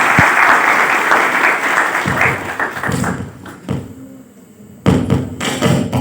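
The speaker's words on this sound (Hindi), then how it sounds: "एसएसडी के लिए जोरदार तालियां।" An audience applauds its teachers at a digital skills training camp, a dense burst of clapping that fades into scattered claps and thuds, then surges again in a second loud wave.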